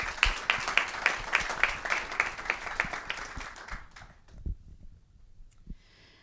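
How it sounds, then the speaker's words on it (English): Applause from a conference audience at a stand-up summit, a scattered round of clapping that is fairly close, thins out over several seconds and ends in a few last claps. "Let's give one more round of applause."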